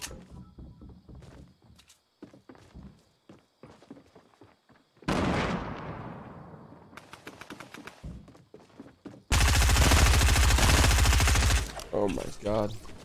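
Fortnite gunfire with bursts of rapid shots, a dense sustained volley and quicker rattling strings mixed with footsteps and thuds, loud and close, with players talking in between.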